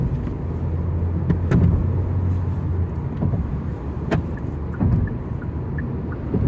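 Hyundai Verna turbo petrol sedan with manual gearbox on the move, heard from inside the cabin as a steady, moderate engine and road hum with occasional light thumps.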